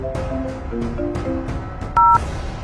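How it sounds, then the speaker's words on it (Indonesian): A telephone in a horror animation sounds a short run of electronic tones, one tone after another, ending in a brief louder beep, with no voices. "Sebentar, Andre, ada telepon dari papa kamu"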